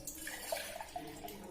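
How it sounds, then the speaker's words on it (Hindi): Water poured from a brass lota into a pressure cooker, a steady splashing pour running close up for the whole moment with no talk over it. "ये मैंने 1 लोटा भर के पानी डाला।"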